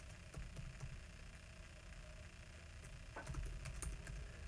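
Quiet clicking of keys on a computer keyboard, scattered irregular taps over a faint steady background hum, with a denser burst of keystrokes near the end.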